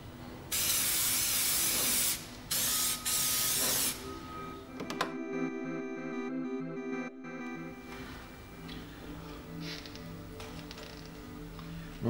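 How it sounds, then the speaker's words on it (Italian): Disinfectant is sprayed into the engine filter housing of a BMW 330ci E46 in a few loud, close hissing bursts, followed by a quieter stretch of tonal mechanical hum and background noise. "diamo anche una disinfettata spruzzando il prodotto all'interno"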